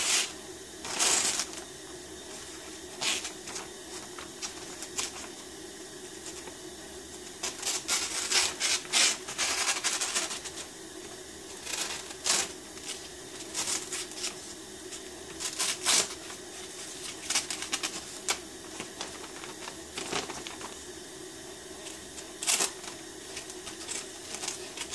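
Thin phone book paper pages are handled, crinkled and torn while boxing up items, with repeated sharp rustles and ripping bursts over a quiet background, no talking.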